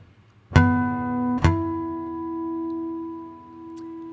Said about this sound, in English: we've got some natural harmonics, just 2 of them